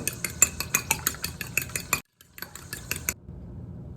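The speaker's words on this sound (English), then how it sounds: "Lightly beat this." Eggs for French toast lightly beaten in a bowl with a fork or whisk, a quick series of rhythmic clinking taps, a short pause, a second burst of strokes, then quiet.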